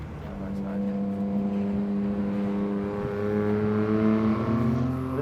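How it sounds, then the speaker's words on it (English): A vehicle engine idles and revs steadily at the start of a desert off-road race, with a rising, droning tone held close by over a few seconds. "Start revving up a little bit, then you can like give it some gas"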